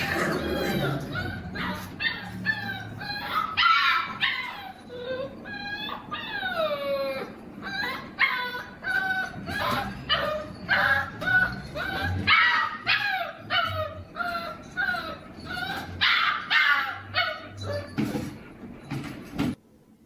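A litter of five puppies whimpers, yips and barks almost without pause, many high squeaky cries overlapping at close range, with a voice talking faintly underneath.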